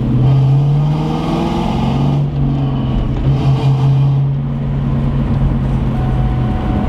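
A Ford Mustang engine revs as gas is fed in, a loud, close rumbling drone that swells and eases over several seconds, with no talking.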